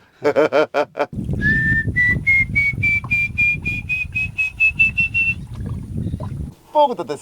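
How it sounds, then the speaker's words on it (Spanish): A man whistles to call river dolphins in the Peruvian jungle, a long rising, pulsing whistle held for several seconds, loud and close, with a boat motor rumbling underneath and brief speech at both ends. "Por eso nosotros hacemos así para llamar a los delfines para que vengan. Y ese es un silbo"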